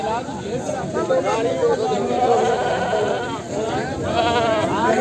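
Goats bleating at a busy goat market in Surewala, several animals calling over one another in overlapping wavering cries, loud and close, under a background babble of voices.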